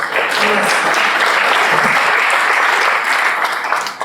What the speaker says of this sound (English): So round of applause for Melissa.